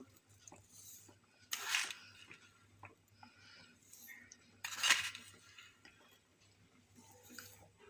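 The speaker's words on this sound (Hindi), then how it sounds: "मैं इसमें 4 चम्मच चीनी डाल रही हूँ।" A spoon adds sugar to carrot kheer, giving two distinct metallic clinks against the pot a few seconds apart, close but soft over a faint low hum and light background rustle.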